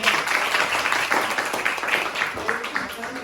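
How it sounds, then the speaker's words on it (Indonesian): A classroom group applauds together, a steady wash of fast, dense clapping that carries on for several seconds with voices mixed in underneath. "Kita beri tepuk tangan untuk kita."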